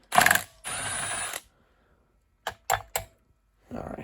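Someone works on a Honda pressure washer engine, undoing a fastener in short mechanical bursts, a couple of longer ratcheting spells and then quick clicks, close and fairly quiet.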